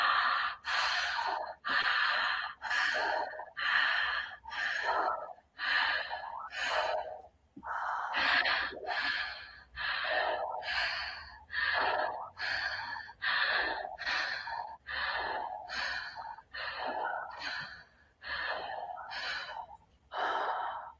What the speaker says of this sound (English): let's start the connected breathing